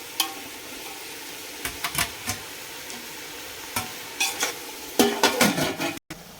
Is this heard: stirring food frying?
yes